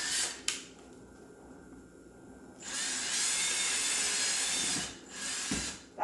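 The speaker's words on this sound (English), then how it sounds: "use my drill and I'm going to put 2 holes in the top of one of the baskets" A power drill whines in several bursts, high-pitched and close, with short pauses between runs as it bores holes through a Dollar Tree basket.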